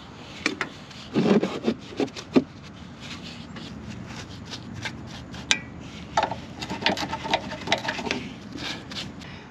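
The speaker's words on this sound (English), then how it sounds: "You just brush it on." A brush spreads Fluid Film over the rusty underside of a truck in winter prep, giving close, dry scratchy strokes in short uneven clusters with quieter gaps between them.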